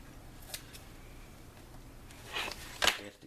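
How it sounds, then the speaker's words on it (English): Scissors snip through fabric on a metal-detecting finds pouch near the zipper: a few faint close cuts, with two sharper snips toward the end over quiet room background. "my scissors here, I just simply do a little cutting right here"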